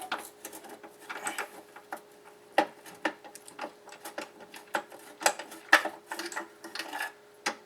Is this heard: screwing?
yes